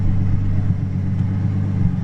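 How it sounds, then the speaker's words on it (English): A 700 hp Toyota Supra with a 2JZ engine runs close by, a loud, throaty low drone holding steady with slight surges, no voices over it. "It revs really quick, and it freaking sounds just, it's got that nice throaty 2J sound"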